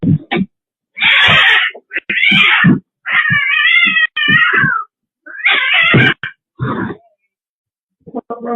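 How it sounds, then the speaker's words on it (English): A cat meows and yowls in a string of loud, drawn-out wails with short gaps between them, close to the listener and without any talk. "Let's just say that this cat did not want him to come home."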